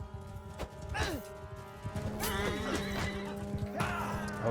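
A horse whinnies several times in a Mount & Blade II: Bannerlord battle, the shrill neighs rising over clattering hooves and the clash of combat.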